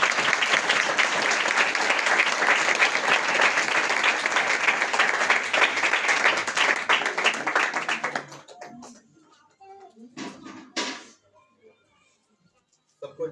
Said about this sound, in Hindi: उनका पत्नी के लिए ताली बजाते हैं।